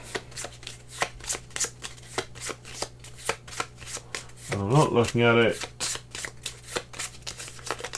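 A deck of playing cards is shuffled repeatedly during a solo tabletop game of Concordia, producing a steady run of crisp riffling bursts up close, with a person speaking briefly partway through.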